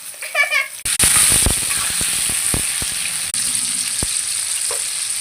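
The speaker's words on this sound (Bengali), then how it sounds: "তেলে এখন আমি আলু ভেজে নিচ্ছি।" Potatoes fry in hot oil in a wok, a loud steady sizzle that bursts up as they go in, with clinks and scrapes of stirring running through it.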